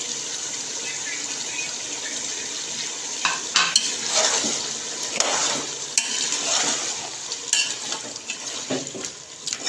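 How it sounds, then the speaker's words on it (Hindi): Beef karahi gosht frying in a pot as tomatoes are added, giving a steady close sizzle with intermittent stirring and scraping sounds. "2 से 3 मिनट गोश्त को फ्राई होते हुए हो गए हैं। अब इसके अंदर 3 से 4 बड़े साइज के मैंने टमाटर लिए हैं, ये मैं डाल दूँगी।"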